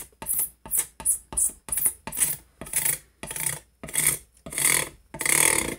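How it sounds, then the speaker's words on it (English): A scraper rasps across a guitar fingerboard, lightly taking off the finish in about a dozen even back-and-forth strokes, each a close, crisp scraping burst with short pauses between. "I'm really lightly taking the finish off of this fingerboard."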